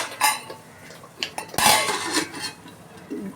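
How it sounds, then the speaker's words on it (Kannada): A plate set over a pan of simmering egg masala on a gas stove, giving a few sharp metallic clinks and clatters at close range over a low kitchen background. "ಗ್ಯಾಸ್ನ ಸಿಮ್ಮಲ್ಲಿ ಇಟ್ಬಿಟ್ಟು ನಾನು ಅದಕ್ಕೊಂದು ತಟ್ಟೆ ಮುಚ್ತೀನಿ."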